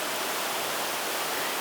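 A waterfall in La Union, Philippines, gives a continuous, loud, even rush of falling water with no voices.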